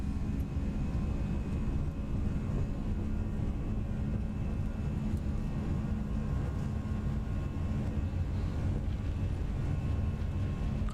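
Airliner engines during a takeoff roll from Gatwick in the X-Plane 11 flight simulator, a steady low roar and rumble held at constant loudness, with no voices.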